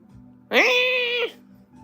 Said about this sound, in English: Now the cat's yelling at me.